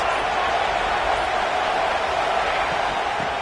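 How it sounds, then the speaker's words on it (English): A football stadium crowd roars steadily as the defense faces a big third down in the red zone, with a dense, continuous wall of cheering that holds at an even loudness throughout. "this crowd is getting behind this defense"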